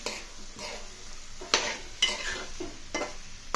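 Potato pieces being stirred in a hot cooking pan, several distinct scraping strokes about every half second over a light, steady sizzle, close and moderately loud.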